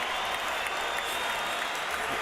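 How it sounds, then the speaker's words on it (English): A boxing arena crowd stands and cheers during a professional prize fight, a dense, loud wash of applause and roaring voices held steady throughout. "these fans are standing, cheering"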